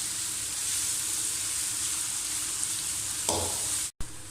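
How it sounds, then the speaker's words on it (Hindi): Ginger garlic paste sizzles with onions in a hot pan, a steady close frying hiss with a brief stirring scrape near the end, no voices. "अदरक लहसुन का पेस्ट डालकर आपने इसे 1 मिनट और अच्छी तरह भून लेना।"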